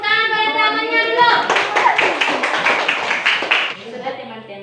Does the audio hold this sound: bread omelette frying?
no